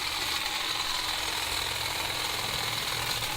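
A DeWalt 20V MAX cordless pole hedge trimmer cutting a hedge gives a steady, loud buzzing motor drone with reciprocating blade chatter, continuous and close, with no speech.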